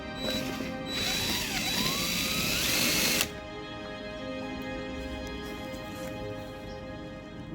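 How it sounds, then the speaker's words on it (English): A power drill whirs steadily at close range for about three seconds while drilling holes in an ebike fishing trailer, then cuts off, leaving a quieter mechanical hum behind. "when you drill your holes through here, you can just go in the reverse"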